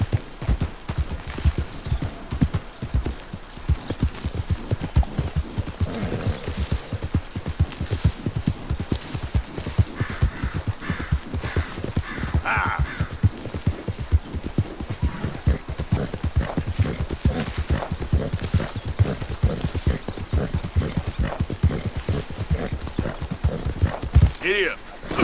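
Horse hooves clip-clopping in a steady, quick rhythm as a rider travels in the Red Dead Redemption 2 video game, close and continuous throughout, with a voice talking over it and a brief whinny.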